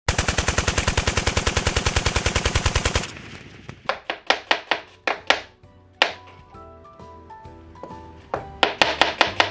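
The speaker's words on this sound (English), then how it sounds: "I'm gonna cut these onions up real quick." A knife chopping onions on a cutting board: a fast, even burst of rapid chops, then slower, irregular cuts, close and loud with no talking.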